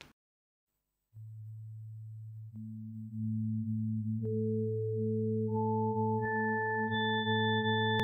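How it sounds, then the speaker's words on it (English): A Korg Volca FM synthesizer builds a tone from six sine waves, starting with one low pure hum and adding higher steady partials one by one, each an octave above the last, until all six sustain together cleanly. "I have configured a sound that consists of six sine waves"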